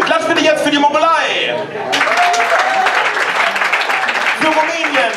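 Audience applause and clapping break out at a live musical comedy show themed on the Eurovision Song Contest, a dense crowd sound under and after a performer's German speech, with some chuckles mixed in.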